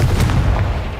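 A Confringo blasting spell explosion in the Hogwarts Legacy video game, a loud, close, rumbling boom that fills the whole brief moment and fades slightly.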